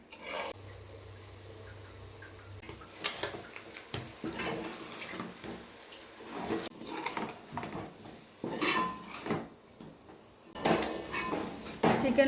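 Chicken fry being stirred in a pan until dry, giving repeated scraping and clinking of a utensil against the pan in irregular bursts, close and moderately loud with no talk.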